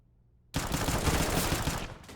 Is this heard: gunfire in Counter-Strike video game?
yes